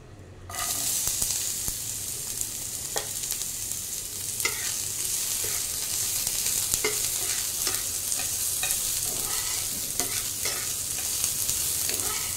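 Chopped onion and garlic frying in hot oil, a constant close sizzle starting abruptly, with intermittent clicks and scrapes of a spatula stirring in the pan, steady and fairly loud with no voices.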